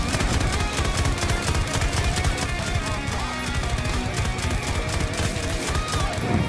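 PKP-BP machine gun in Battlefield 2042, sustained rapid automatic fire hammering close and loud for the whole stretch, a dense relentless rattle with no breaks.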